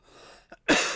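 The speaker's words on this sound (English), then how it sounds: "I gotta stop coughing." A single short cough, close and fairly loud, preceded by a faint breathy rasp.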